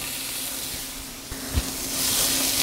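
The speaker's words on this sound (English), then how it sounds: "So I'm just gonna pop these right in the pan right now." Thin fennel slices drop into a pan with a soft thud, then a broad hiss rises and holds steady at close range, with no voices.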